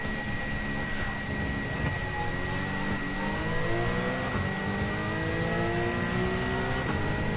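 Turbocharged Porsche Cayman GT4 Clubsport 2016 Group 4 race car in Gran Turismo 7, its engine droning steadily at high revs with shifting pitch, a continuous mechanical whine throughout and no speech.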